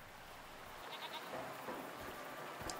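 A faint goat bleat from a video game rises briefly from a steady, hissy background, followed by a short high chirp near the end.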